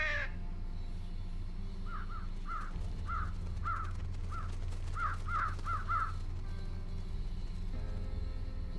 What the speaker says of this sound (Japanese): カラスたち